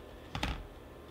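A computer keyboard key is pressed once, giving a single short, close click against quiet room tone.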